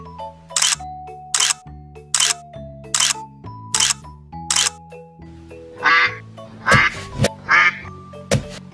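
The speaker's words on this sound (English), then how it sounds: "Duck." Toy duck quacking in a kids' sea-animal toy naming sequence: a steady series of loud, close quacks at regular intervals, followed by a few harsher, noisier squawks near the end.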